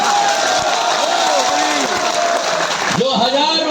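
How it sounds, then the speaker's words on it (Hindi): A large rally crowd, many of them women, claps and cheers in a dense continuous wash of applause, while a loud amplified voice speaks over it. "मेरी माताएं ताली बजानी, ताली बजा"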